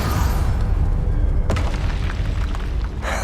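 Confringo explosive spell blast in Hogwarts Legacy, a loud sustained booming rumble with a sharp crack partway through and another burst at the end, dense game noise throughout.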